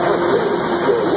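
A large 40 by 240 inch LeBlonde metal lathe runs steadily with a loud, continuous mechanical hum and a faint wavering tone, no voices over it.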